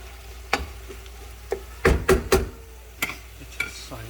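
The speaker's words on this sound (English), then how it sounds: "Frying is the essence of such type of kind of cooking." Chicken pilao frying and being stirred in a pan, with a steady low sizzle beneath a series of sharp scraping and clattering stirs, a quick cluster of several strokes near the middle, up close.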